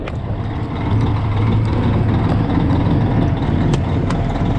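A semi truck's warmed-up engine idles nearby with a low, steady rumble, broken by a few faint clicks and ticks and no speech.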